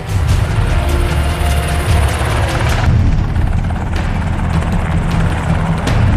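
Two helicopters arriving over a compound in Abbottabad at night, a loud, continuous rotor roar and low rumble that holds steady throughout, with a few sharp booming hits layered over it.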